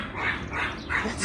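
A dog barks in a short run of loud, close yelps from a backyard garden beside an alley, three quick barks with no talk over them.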